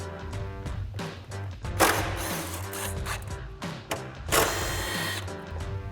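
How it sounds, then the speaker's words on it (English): Power driver with a T30 Torx bit backing four screws out of the fog light mount on a 2021-2023 Ford F-150, a whirring mechanical buzz in repeated bursts with brief louder surges, close up. "Then we'll undo the 4 T30 screws holding our fog light in with our T30 Torx bit."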